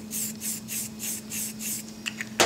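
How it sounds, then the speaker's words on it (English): Wilton color spray is sprayed onto a fondant cookie in a run of short, evenly spaced hissing bursts, close and fairly loud over a steady faint hum, ending with a couple of quick puffs. "what we want to do is take some of our Wilton color spray"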